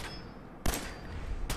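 Gunfire in the video game Fallout 4: two sharp broadband shots about a second apart over a steady game background, loud and close, with no talk.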